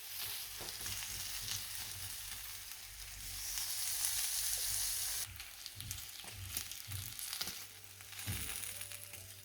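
Halloumi slices sizzle steadily in a frying pan, a dense close hiss with occasional clinks and scrapes as the slices are turned, no voices over it.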